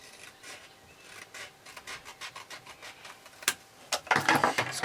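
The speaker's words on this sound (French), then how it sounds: "Je vais couper le petit onglet ici." Scissors or a craft blade cutting a small paper tab on a handmade pop-up explosion box, a run of light rasping snips and rubs close by, growing busier and louder toward the end, with no talking.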